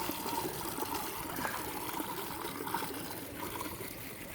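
Water trickles and splashes steadily over a moss rock in an aquaponic garden, a continuous close dribbling stream with no voices.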